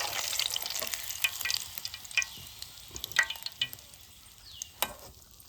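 Puris frying in hot oil while cooking at a night campsite, a steady close sizzle with sharper crackles and pops scattered throughout.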